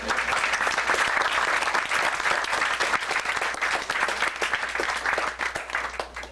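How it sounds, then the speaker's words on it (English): An audience at an eagle court ceremony applauds, with many hands clapping in a dense, steady patter that stays loud for several seconds and eases slightly near the end. "Give him a round of applause."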